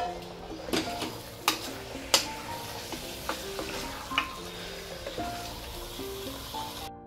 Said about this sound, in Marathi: आपल्याला मटण त्या कांद्यामध्ये आता व्यवस्थित परतून घ्यायचं आहे.